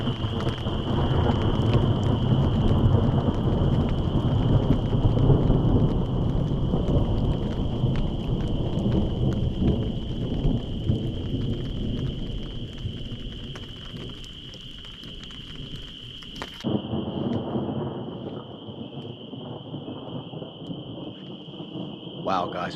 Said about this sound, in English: There's no lightning, it's just thunder.